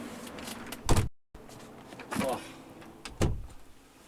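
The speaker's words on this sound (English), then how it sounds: "maybe close the door" A door being closed, with a few knocking and sliding thumps spaced over a few seconds in a room, heard near and fairly loud over faint background noise.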